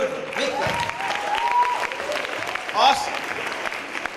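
An audience at a keynote speech gives applause, a steady spread of clapping that holds for about four seconds with a brief louder swell near the end.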